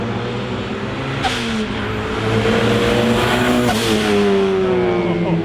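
Built high-compression turbocharged 1.6-litre rear-wheel-drive car on a street test drive, engine revving and rising through gears with a loud sustained drone, brief whooshes between shifts, heard close.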